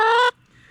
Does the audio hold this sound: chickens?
yes